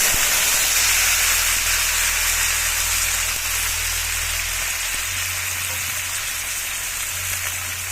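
Pieces of star fruit (kamranga) frying in hot oil give a loud, steady, dense sizzle close by, with no voice over it.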